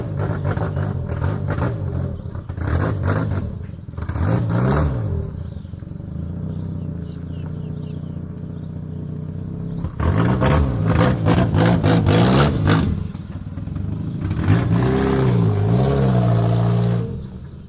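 Mazda Miata NA engine running just after a cold start, loud and steady with repeated revving bursts that rise and fall over the idle, close to the car with no talk.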